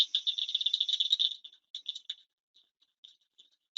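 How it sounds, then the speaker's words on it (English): A Blanchard's cricket frog calls in a faint, high, glassy clicking: a fast rattling burst of clicks, then sparser scattered clicks trailing off against silence. "That's the call of the Blanchard's cricket frog."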